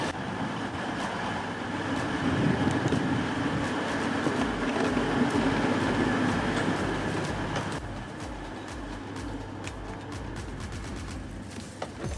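Passenger train running toward Chesterfield, a continuous loud rumble and hum from on board that swells then eases slightly, with faint rhythmic clicks of the wheels over the rails.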